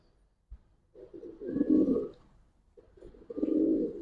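Giribaz pigeons coo in two soft, throaty phrases, each swelling and fading, close by with no talk over them.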